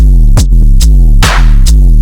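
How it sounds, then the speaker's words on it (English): A loud, heavy synth bass drone with gritty distortion from an erosion effect, in heavy riddim dubstep style, cut by four short bursts of hissing white noise at regular intervals. "this erosion is adding high frequency white noise"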